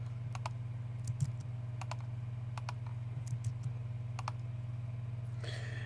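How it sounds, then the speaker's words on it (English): Numbers are typed on a computer keyboard in scattered bursts of crisp key clicks over a steady low electrical hum, close by and with no one speaking. "each time I type in a number I have to hit add other after that"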